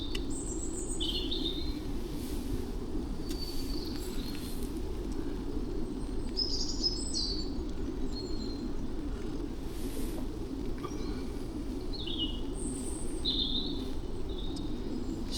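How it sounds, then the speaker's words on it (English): Birds chirp and sing intermittently at a distance in the woods over a steady low hum of background noise, with no voices. "There can't be many things as relaxing as sitting in the woods, listening to the birds."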